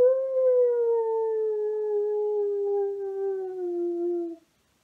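A single long, steady howl like that of a wolf, fairly faint and alone, drawing out for about four seconds and then stopping.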